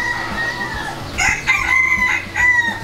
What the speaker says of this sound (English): Oh, the roosters are hilarious.